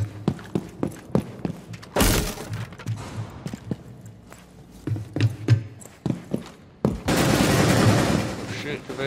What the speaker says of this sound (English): Shit, Kavera shooting. Why is Kavera shooting?